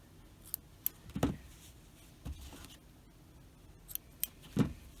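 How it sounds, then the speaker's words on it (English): Scissors snip excess yarn from a finished knit hat: a few short, soft cuts spaced across a quiet room, faint and close, with light handling rustle between them. "I'm going to trim off the excess and just pull it"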